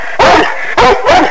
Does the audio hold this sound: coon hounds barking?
yes